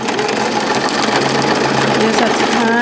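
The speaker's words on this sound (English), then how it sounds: "So I'm going to start sewing." Sewing machine stitching a pocket-style cloth diaper, a steady fast mechanical whir with rapid needle clatter running continuously and close, with no pause.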